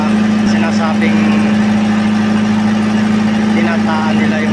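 A fishing boat's engine runs steadily at sea, a loud continuous low drone with a strong tonal hum, while someone talks over it throughout.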